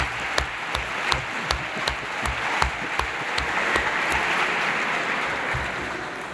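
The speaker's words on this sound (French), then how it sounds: "On applaudit les recteurs" An audience applauds the rectors during an opening address at an academic ceremony. The clapping is dense and steady, with sharp individual claps standing out, and it holds at an even level throughout with no talking over it.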